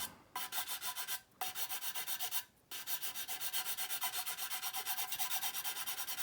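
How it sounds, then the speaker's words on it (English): Sanding stick rubbed back and forth over a seam line, a quick steady rhythm of close, scratchy strokes that pauses twice briefly and then carries on alone. "I'm just letting the sanding stick do the work."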